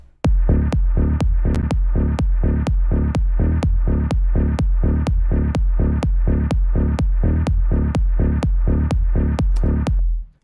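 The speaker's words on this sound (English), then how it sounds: "So let's hear that just with the kick and the bass." A pounding four-on-the-floor minimal techno kick with a deep, pumping bass underneath, steady and loud throughout, with no other instruments or voices.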